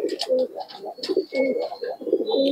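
Homing pigeons, a single male flying pigeon among them, cooing in close, loud, repeated throaty rolling phrases, with a few faint higher chirps in between and no talk.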